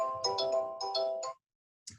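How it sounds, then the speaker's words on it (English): A mobile phone ringtone plays close by: two bright melodic phrases in quick succession, then a short pause before the next ring begins. "That's my phone."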